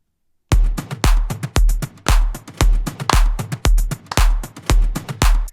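Electronic percussion groove of kick drum, claps and hi-hat in a produced track, a steady loud pattern of punchy hits with bright tops, repeating evenly for several bars with no voice.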